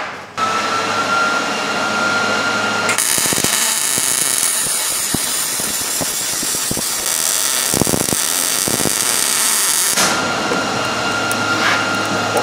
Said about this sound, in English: We'll just weld it right to the body of the muffler how it was and put a little tension on it.